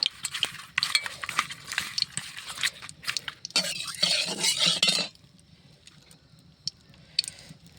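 Raw fish being rubbed and mixed by hand with salt and turmeric powder, soft wet squelching and light clinks of a metal bowl, fairly close, with a brief busier stretch of scraping before it quiets.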